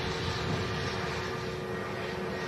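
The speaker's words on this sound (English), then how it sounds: "Okay, 380's taxiing" An Airbus A380 taxiing at Manchester Airport gives off a steady broadband engine roar with a faint tonal whine, continuous and unchanging, heard at a distance with no voices.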